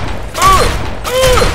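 Two gunshots ring out in Fallout 3, each a sharp crack followed by a ringing, whistling tail, spaced about a second apart and fairly loud.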